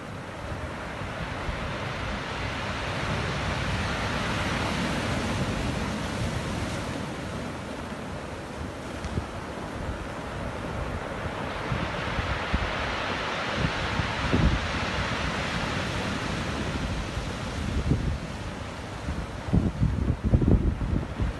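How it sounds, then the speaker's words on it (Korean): Ocean waves wash steadily onto the rocky shore at Igidae near Gwangalli beach in Busan, a continuous close surf roar with swelling breakers and some wind buffeting the microphone, no voices. "거기에 한번 파도 소리를 좀 잠깐 한번 들어보시겠습니다"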